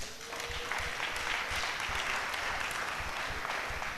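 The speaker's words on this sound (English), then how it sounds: "let's raise our hands and clap for that" Audience applause at a church gathering for healing, a dense steady wash of many hands clapping at even loudness throughout, with no talking over it.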